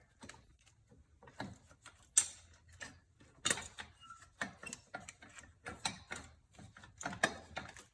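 Hand tools work on the TGV of a Subaru STI engine, making quiet irregular ratchet clicks, metallic ticks and small knocks at close range, with no talking.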